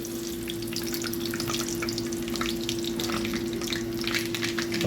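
Mustard seeds crackle and sizzle in hot oil as the base for a large fish curry is started, with a steady fry and a scatter of sharp pops heard up close.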